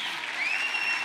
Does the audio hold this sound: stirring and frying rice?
no